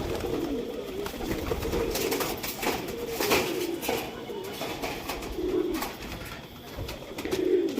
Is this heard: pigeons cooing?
yes